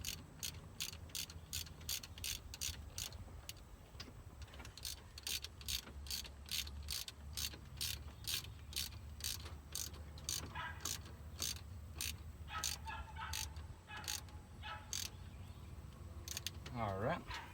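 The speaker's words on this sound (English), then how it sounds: "I can get the wrench on it. There we go. Tighten it back down." A wrench ratchets steadily while tightening a clamp on a Ford F-600 truck, a fast string of sharp metallic clicks in quick bursts, fairly faint and close, with a few brief pauses between runs.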